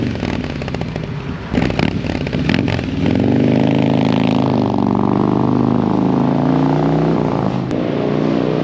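Harley-Davidson M8 Bagger fitted with an S&S Sidewinder 2-1 exhaust, idling with a few sharp blips early, then settling into a loud, steady, deep rumbling run close by, with no talking.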